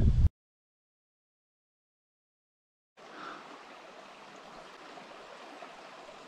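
Water runs through a temporary waterway in a steady, moderately loud rushing wash that begins after a brief burst and a few seconds of silence, then continues evenly with no voices.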